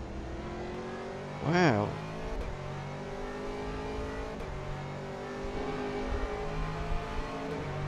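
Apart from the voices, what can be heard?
Porsche GT3 race car engine at Paul Ricard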